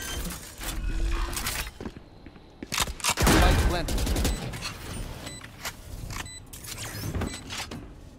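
Gunfire in a Valorant match, loud bursts of rapid shots with sharp cracks and rattling echoes, repeated several times close up.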